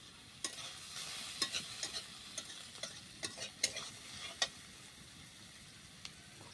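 Onions fried until reddish-brown with three sliced green chilies sizzle quietly in a pan while a spoon scrapes and stirs. Sharp scraping clicks come in an irregular series over a soft, steady frying hiss, with no talk.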